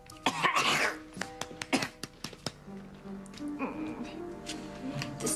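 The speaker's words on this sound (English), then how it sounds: "Let me clear my throat first." A person coughs and clears their throat in a series of short, sharp bursts, then quieter muffled sounds follow.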